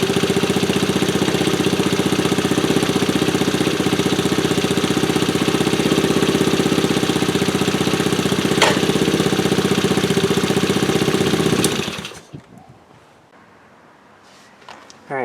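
A 1974 Honda ST90 motorcycle with a rebuilt 110 engine idles loudly and steadily up close with an even chugging beat, then cuts off near the end, leaving quiet with faint handling noises.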